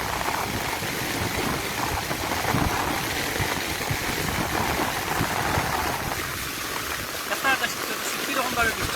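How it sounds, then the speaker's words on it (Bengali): Heavy summer rain pours down steadily, a dense, continuous hiss of water striking surfaces close by for the whole stretch, with no break in its intensity. "কীরকমভাবে বৃষ্টি হয়, অনেক বৃষ্টি হয়"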